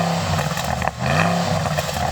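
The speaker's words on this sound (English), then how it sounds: "Go on, Jan, you rev up your car." A Porsche Cayenne Turbo engine revs in a steady, loud roar with a brief dip near the middle before building again, heard up close without any talking.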